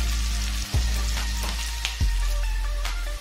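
Onions sizzle steadily in a pan with a little salt as they fry toward light brown for a Punjabi pulao, a close, continuous crackle broken by two soft clunks.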